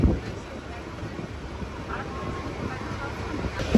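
Rajkot–Ahmedabad Intercity Express pulling away from Surendranagar station, heard from inside as a steady low rumble with occasional clunks from the carriage.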